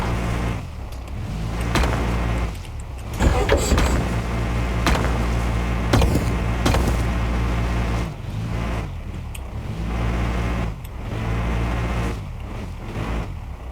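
An offroad vehicle reversing in Offroad Mechanic Simulator, its engine a steady low drone with broadband rumble and a few brief clunks and knocks midway, continuous and fairly loud throughout.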